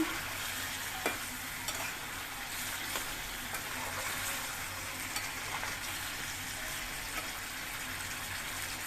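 Chicken feet and radish curry stirred and sautéed in a pan, giving a steady close sizzle with scattered scraping clicks of the spoon throughout, with no talking.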